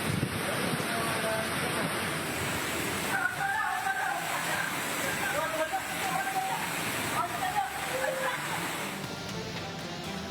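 Strong storm winds gust during a heavy rainstorm in Jember, East Java, a continuous broad rushing roar with faint voices and tonal sounds mixed in underneath.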